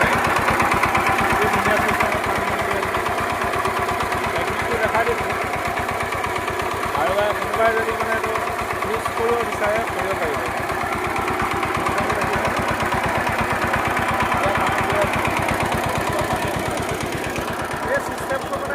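A VST tractor engine runs steadily to drive a pond water pump, a loud, even mid-pitched chugging throughout with a rapid rhythmic knock, while someone talks over it.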